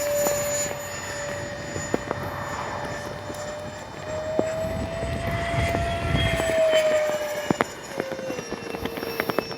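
An E-flite 80mm Habu XS RC ducted-fan jet flies in gusty wind, its steady high turbine whine shifting pitch as it passes at middle distance, with wind buffeting and occasional sharp clicks.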